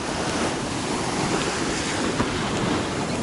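Strong sea waves wash continuously onto a Greek beach in the evening, a steady broadband roar of surf with wind buffeting the microphone and no voices.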